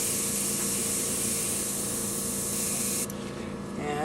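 Airbrush spraying green paint onto a painted backdrop hill, a steady close hissing blast for about three seconds that cuts off abruptly and leaves a faint quieter hiss.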